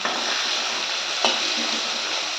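Pomfret fish frying in a pan as it is turned over: a steady, bright, close hissing sizzle of hot oil, with a brief sharper spatter midway.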